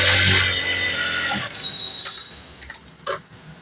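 A sewing machine stitches along the folded edge of a trouser hem with a loud motor whir for about a second and a half. It then stops, leaving scattered clicks and fabric handling.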